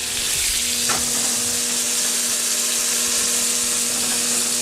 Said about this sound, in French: Maintenant que c'est grillé des deux côtés, on va achever la cuisson.